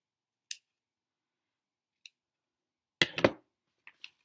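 Scissors cutting paper to size for a wombat drawing: a few isolated crisp snips, close and quiet, with a longer crunchy cut in the middle, surrounded by silence.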